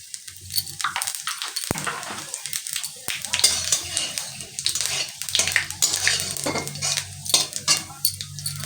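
Panch phoron spices crackling in hot oil, with busy scraping and clinking of a spatula stirring them around the pan and occasional bursts of sizzle, recorded up close.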